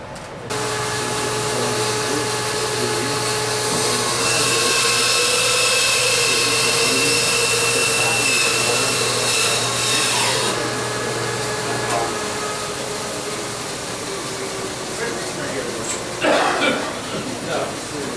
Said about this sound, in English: So now I would take it to a bandsaw.